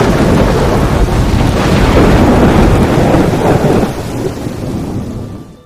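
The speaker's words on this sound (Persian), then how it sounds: "امروز همونطور که میدونین یه روز بارونیه" Steady heavy rain on a rainy day with rolling thunder, a loud continuous downpour hiss under deep rumbles that ease off toward the end.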